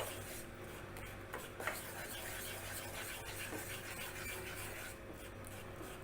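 Ghee and grated jaggery being mixed for churma laddu, a steady rubbing, scraping sound of a spoon working through the sticky mixture in a bowl, continuous and close.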